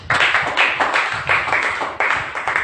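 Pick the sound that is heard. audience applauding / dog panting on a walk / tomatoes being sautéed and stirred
audience applauding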